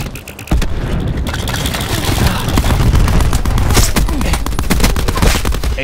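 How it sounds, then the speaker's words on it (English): Dense gunfire and explosions from a Call of Duty Black Ops 4 deathmatch, loud rapid bursts of shots and booms layered continuously after a brief quieter start, with a grenade blast in the mix. "Grenade going out."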